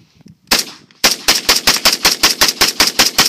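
Rapid semi-automatic fire from an SKS rifle with a 40-round magazine into a dirt pile outdoors: a lone shot, a pause, then a fast, steady string of about fifteen loud, sharp reports, with no voices.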